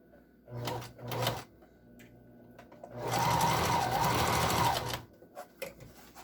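A sewing machine stitches fabric parts for an N95 face mask in short bursts: two quick runs, then a longer steady whir of about two seconds, followed by small clicks and taps, close and fairly loud.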